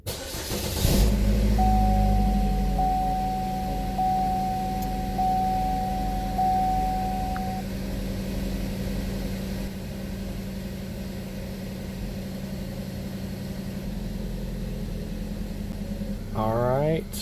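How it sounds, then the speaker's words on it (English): Car engine cranking and catching after a camshaft position actuator solenoid replacement, then idling steadily and close for over fifteen seconds with a brief whine and a short rise in revs near the end. "We'll start up the car now."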